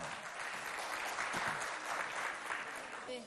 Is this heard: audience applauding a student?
yes